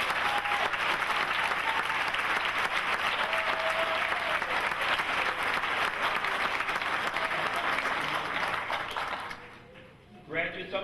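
A crowd at a Navy MLT graduation ceremony gives the graduates sustained applause, a dense roar of clapping that holds for several seconds and then fades, followed by a voice speaking briefly.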